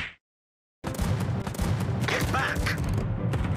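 A battleship's main guns fire a salvo in World of Warships: after a brief silence, a sudden heavy burst of overlapping booms that then rumbles on steadily to the end.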